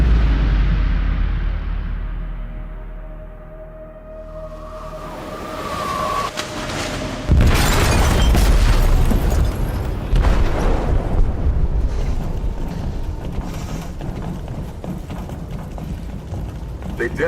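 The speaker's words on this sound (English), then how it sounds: "They detonated an explosive in the hold." An explosive detonating in a ship's hold in Detroit: Become Human: a sudden heavy boom erupts partway through, followed by a long rumbling, crackling roar of debris and wreckage that slowly fades, with brief voices beforehand.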